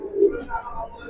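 Racing pigeons, a pair of club runners, give a short soft coo up close, one low rounded call swelling and fading within about a second.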